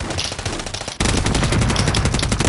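Rapid automatic gunfire from the video game Modern Warfare 3, dense and loud, with a quieter burst followed by a sudden heavier, sustained barrage of rattling shots.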